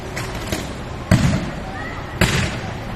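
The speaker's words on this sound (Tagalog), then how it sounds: "Sunod-sunod ang pagputok ng kawad sa poste ng kuryente." Electrical wires bursting on a power pole in a Quezon City neighborhood at night, several sharp cracking pops spaced about a second apart, each with a brief crackling tail over steady background noise.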